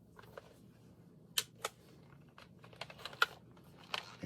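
A dirty, long-stored computer keyboard is handled, giving scattered sharp plastic clicks and taps at irregular intervals over a faint low background hum, close by and with no talking.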